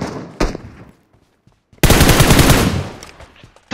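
Gunfire in a shooting video game: one short shot, a brief quiet gap, then a loud, sustained burst of rapid automatic fire lasting over a second, with no talk.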